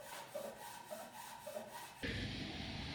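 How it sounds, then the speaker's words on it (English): A drilled hole in wood is enlarged by hand, giving soft rhythmic rubbing and scraping strokes, then a sudden louder, brighter grinding burst near the end, close up with no speech. "I had to use a smaller bit and then enlarge that hole with a method that I haven't seen before."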